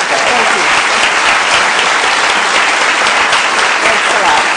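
Loud, dense applause from a large audience honoring Madeleine Albright after a foreign policy talk, continuous and full throughout.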